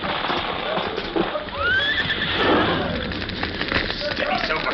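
The horse Silver whinnies with a rising, quavering neigh beside a nearby fire, while hooves clip-clop and a voice calls steadily over the commotion.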